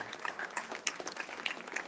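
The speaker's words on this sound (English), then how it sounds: "Give them a big round of applause." A lecture-hall audience at a distinguished lecture series gives brief, fairly faint applause, with scattered individual claps rather than a dense roar.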